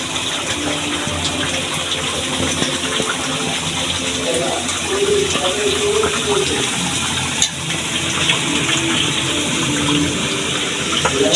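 Greens being rinsed under a running tap while cooking, a steady rush of water flowing on close by for the whole stretch, with light handling noises and a faint voice underneath.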